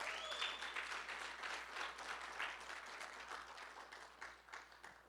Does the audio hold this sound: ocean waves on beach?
no